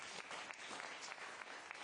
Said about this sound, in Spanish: Dale otro aplauso, Señor.